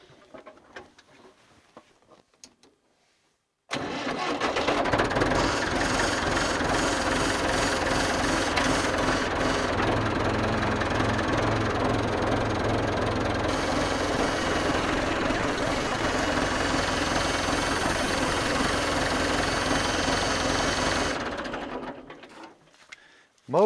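A tractor engine starts up abruptly and runs at a loud, steady drone close by for about seventeen seconds before cutting off, with no talking over it.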